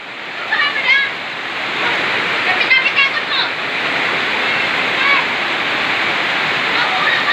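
Floodwater rushes over a highway during heavy rain, making a loud, steady roar, while voices call out faintly above it a few times.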